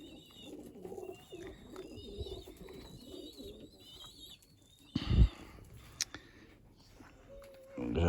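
Pigeons coo softly in a low, repeating murmur after bathing, with some chirps and brief flapping or shuffling sounds nearby.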